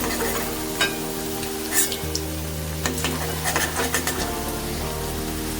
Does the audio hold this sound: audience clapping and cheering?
no